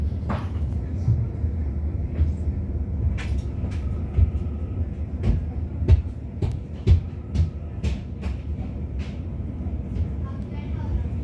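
A passenger train on a railway rumbles steadily from inside the carriage, with repeated clacks and knocks of wheels over rail joints, and an announcement voice runs over it.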